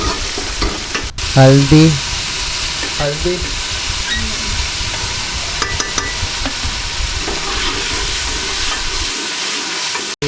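Spices and turmeric frying and being stirred in a pot for restaurant-style white daal mash, with steady sizzling and repeated scraping stirs, a few louder clatters early on, and a person speaking briefly over it.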